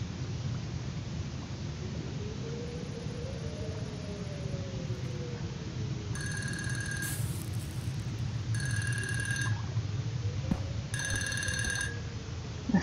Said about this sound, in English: A phone?